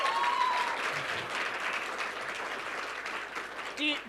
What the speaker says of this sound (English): Please can we give them a big round of applause?